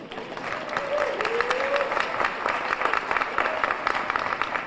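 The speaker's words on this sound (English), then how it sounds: "You can applaud." An audience at the 64th Annual Rural Life Conference opening session claps steadily throughout, a dense continuous applause from a crowd in a hall, with no speech over it.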